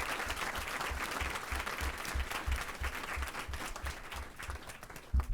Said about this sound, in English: So this is the point at which the outbursts of clapping is appropriate.